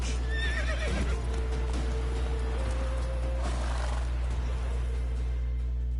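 Roach, the horse in The Witcher 3, lets out a loud, clear whinny early on, with hoofbeats clopping and other game sounds over a constant low rumble.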